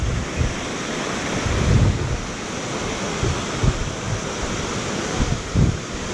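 Rushing water from Kewai Waterfall in Shogran Valley, a steady broadband roar with wind buffeting the microphone and a few louder gusts, no talking.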